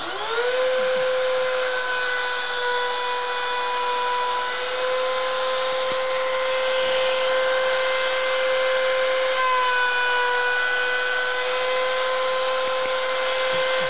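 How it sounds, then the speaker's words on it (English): A router fitted with a core box bit cuts wood on a router table, giving a steady high whine that holds for many seconds with slight shifts in pitch as light pressure feeds the piece. "we're going to run this over the core box bit"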